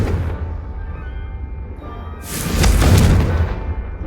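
Confringo blasting spell in Hogwarts Legacy: a low rumble builds, then a loud bursting boom with bright crackling spread swells midway and slowly fades.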